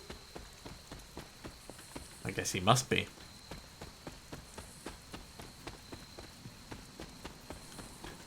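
Steady soft rain hisses in the Marvel's Midnight Suns video game while regular footsteps tap along through the downpour. A person talks briefly partway through.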